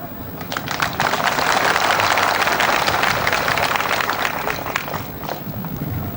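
A large crowd at an outdoor political rally claps loudly, a thick, rising and fading roar of many hands with scattered louder claps and faint voices underneath.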